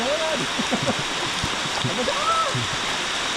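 Steady rain falls on a forest hiking trail in Khao Yai, a dense, even hiss of drops with some running water beneath, close around, while a few faint voices and bird calls come through.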